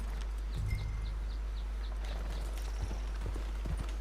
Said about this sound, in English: Cojo el caballo mejor.